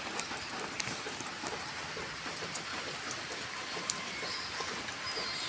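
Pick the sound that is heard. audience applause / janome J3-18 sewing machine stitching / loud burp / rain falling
rain falling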